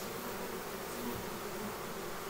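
Honey bees buzz at a hive during a swarm install, a continuous, even hum of many wings without breaks.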